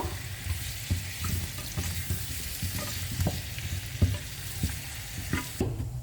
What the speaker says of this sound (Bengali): ভেজে নিব।